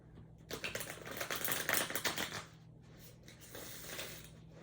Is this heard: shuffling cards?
yes